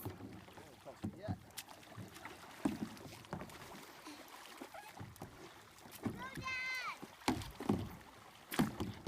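A kayak is paddled on open water, with soft splashes and paddle knocks recurring at intervals amid wind noise, while children and an adult talk over it.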